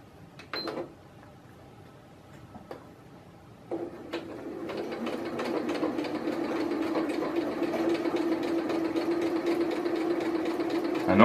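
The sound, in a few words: sewing machine stitching heavy strap material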